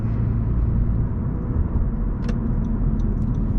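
A 2017 Honda Civic Coupe Touring drives along, a steady low cabin rumble of engine and road noise heard from inside, with a brief clunk partway through and no one talking.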